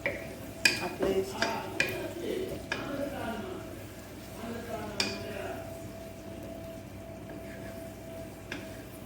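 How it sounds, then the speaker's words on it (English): Basmati fried rice stirred in a pan, with sharp clinks and scrapes of a utensil against metal over a soft frying hiss; the strikes come in a quick series at first, then fade to sparse taps. "just fry for like 2 minutes at least"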